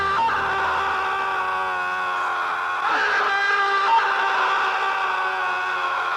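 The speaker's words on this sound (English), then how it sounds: "Oh, we got to play the scream." Scream sound effect from the 1987 action film Deadly Prey, a sustained, loud, shrill cry with a steady tone that holds for about six seconds without break.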